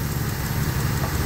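The engine of a Jeep Cherokee XJ with 230,000 miles idles smoothly, a steady low rumble with an even, continuous hum and no voices.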